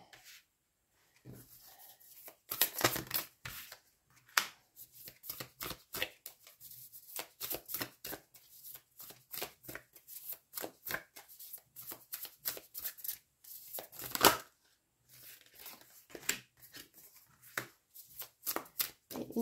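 Tarot cards being shuffled by hand in repeated bursts of riffling and flicking, close and crisp, separated by short quiet gaps.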